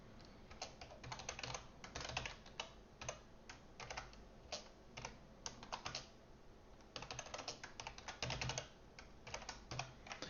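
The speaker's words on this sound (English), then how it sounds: "Always makes me nervous when I type things out before I've actually created them" Rapid, uneven keystrokes on a computer keyboard while typing code for a Flutter pizza-ordering app, close and clear, coming in bursts with short pauses and no talking.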